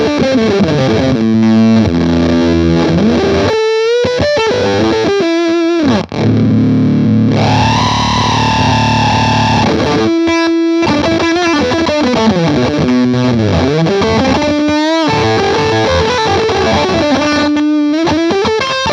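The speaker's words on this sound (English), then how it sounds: "So that's the feedback with the octave off" An Octa-Tron effects pedal with its feedback switched on and octave off colours an electric guitar, giving loud, distorted sustained notes and chords with a ringing, swirling feedback tone and a few short gaps between phrases.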